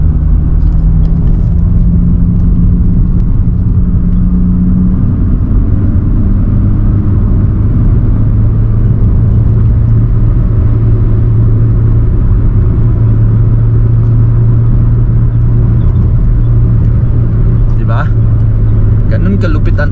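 A 13-year-old car's engine idles and revs steadily up close, a loud continuous low rumble throughout, with someone talking over it.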